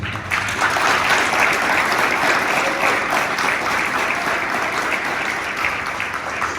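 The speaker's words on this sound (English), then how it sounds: "I ask you all to give a round of applause for our graduates." A crowd at a Pawnee Nation College graduation ceremony applauds its graduates with sustained, loud, dense clapping that lasts several seconds and fades slightly near the end.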